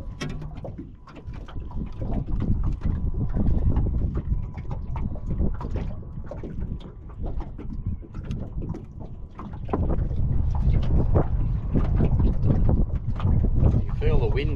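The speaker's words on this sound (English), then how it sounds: "You feel the wind getting even stronger already." Strong wind buffets a small fishing boat out on the water, gusting roughly against the microphone in uneven surges that build louder in the second half, with a person talking over it.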